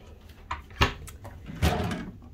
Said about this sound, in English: Lots of drawers, little drawer there.